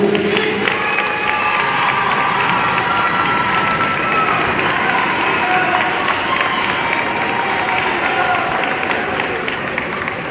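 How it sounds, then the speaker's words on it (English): An audience claps steadily and densely throughout an NJROTC cadet pass in review, with scattered voices and light cheering mixed into the sustained applause. "Applause, please."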